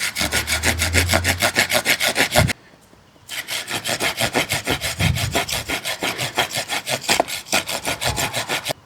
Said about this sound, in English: Let's try a saw now